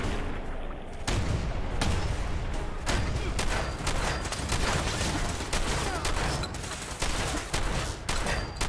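Rapid bursts of gunfire in the Fallout video game, loud and close, with repeated sharp shots and rattling volleys that fill the clip almost without pause.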